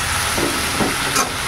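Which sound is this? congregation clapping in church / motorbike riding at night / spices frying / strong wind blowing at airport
spices frying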